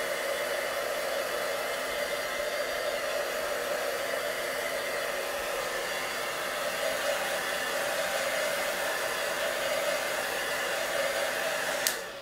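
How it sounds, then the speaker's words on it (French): A heat tool blows a steady, loud whooshing hiss over a stamped card, running continuously and unbroken for about twelve seconds before cutting off abruptly at the end. "Je vais aller la sécher au fer tout de suite."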